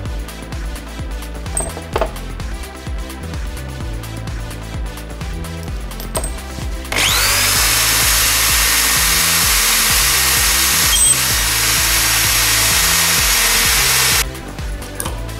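A power drill whirs loudly through material for several seconds, a harsh continuous grind starting abruptly and stopping, with lighter tool clatter and hum around it.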